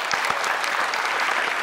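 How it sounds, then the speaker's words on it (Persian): Steady audience applause for a contestant named Asma on a quiz show, a continuous close wash of clapping that holds for the whole moment without talk. "اگر تشویقشان کنین دوستا"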